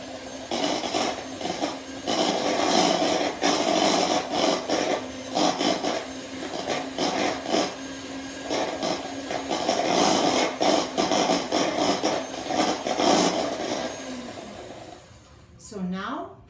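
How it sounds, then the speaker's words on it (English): An electric mixer whirs steadily, beating egg whites with cream of tartar in a small bowl until foamy for a flapper pie, a continuous loud buzzing drone that runs almost the whole time before cutting off near the end. "we're going to beat it until it's foamy"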